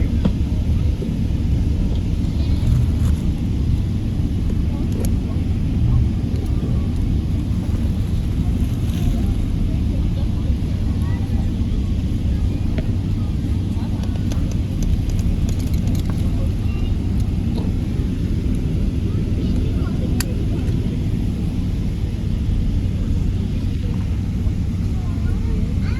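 Steady, loud low-frequency rumble of an Emirates airliner cabin during departure from Pakistan toward Dubai, engine roar continuous throughout with faint background voices and announcements.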